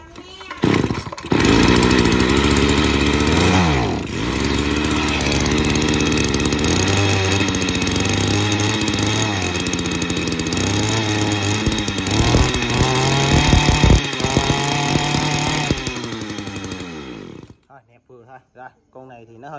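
A small TU26 engine driving a water pump runs loud and close, a buzzing two-stroke drone that revs up and down for most of the clip before stopping abruptly near the end, with someone talking over it.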